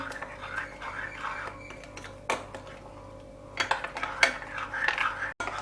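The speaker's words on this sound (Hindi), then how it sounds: "अब सबसे पहले हम सबको हिला देंगे।" Semolina dhokla batter being stirred with yogurt, salt and ginger-chili paste, a spoon scraping and clinking against the bowl in light, irregular strokes, close and fairly quiet with no talking.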